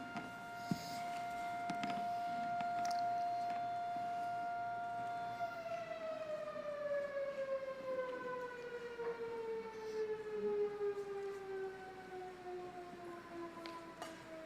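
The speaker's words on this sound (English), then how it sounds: "Our beloved siren's going off." A civil defense siren sounds from outdoors during a county commissioners' meeting, first holding a steady tone, then sliding slowly downward as it winds down, faint and distant in the room.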